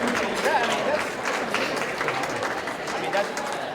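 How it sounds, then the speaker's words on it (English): Applause at a dinner event after a performance by a trio, a steady dense clapping wash with crowd noise and some voices mixed in throughout. "Big round of applause here"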